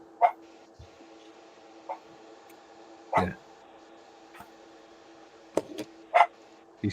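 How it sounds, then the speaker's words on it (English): A dog barks at the bin men in short, scattered bursts over a faint steady hum, with a person briefly speaking in between. "he's barking at the bin men"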